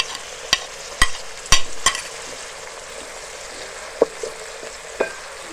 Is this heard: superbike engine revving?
no